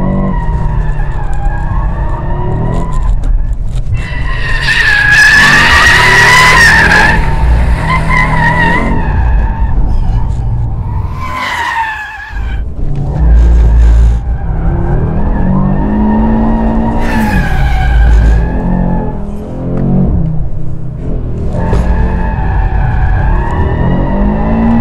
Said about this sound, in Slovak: Urobí to takzvaný donut, alebo teda kolečko, neurobí to burnout